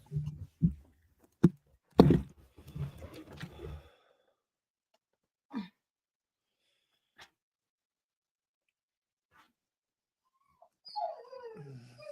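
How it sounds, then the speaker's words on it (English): A dog makes a few short, close barks and huffs, then scattered faint whimpers and sighs through long quiet stretches, ending with a rising whiny whine. "my dog is about to start making a lot of noise"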